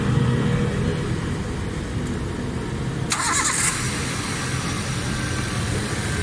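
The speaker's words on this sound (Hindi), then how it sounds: "ये गाड़ी का साउंड देख रहे हैं" A Suzuki Khyber car engine, recently repaired for a carburetor fault and fuel problem, runs steadily at a close, even idle, with a brief burst of higher-pitched mechanical noise partway through.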